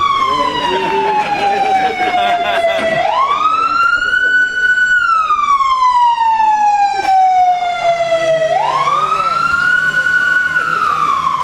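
A police siren wails through the Mission district, rising and falling in long, loud sweeps over a continuous backdrop of street and traffic noise.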